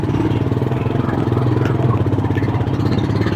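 A motorcycle engine in a village setting runs close by with a steady, rapid chugging pulse and some mechanical clatter, holding an even idle-like rhythm throughout.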